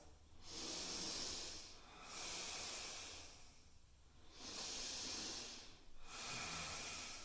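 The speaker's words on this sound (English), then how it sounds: "And a few more breaths." Yoga breathing, slow and close: long hissing breaths through the nose alternate in an even rhythm, about four strokes with brief quiet gaps between, soft and intimate.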